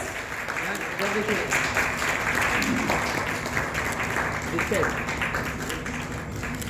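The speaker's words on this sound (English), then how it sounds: "Can we have a loud round of applause?" An audience applauds at an academy's launch event for a Montessori teacher training program, with moderate, continuous clapping and voices talking over it.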